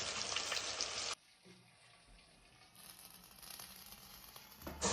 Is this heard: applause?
no